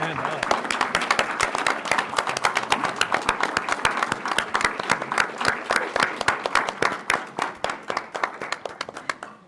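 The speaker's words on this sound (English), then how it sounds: "give them a huge round of applause" An audience at a school board meeting gives a long round of applause, dense steady clapping from many hands that carries on throughout and thins slightly near the end.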